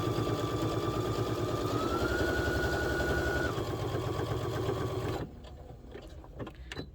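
A sewing machine stitches a slip-through neck scarf in one continuous close run with a slight change in motor pitch partway, then stops abruptly, leaving quiet handling noise.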